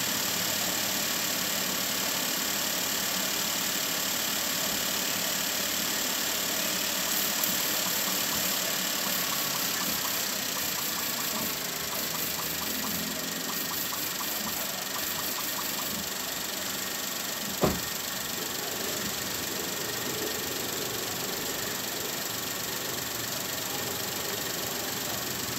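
A 2017 Suzuki Celerio car engine idling after warming up, giving a steady, quiet hum that runs throughout, with one sharp click partway through.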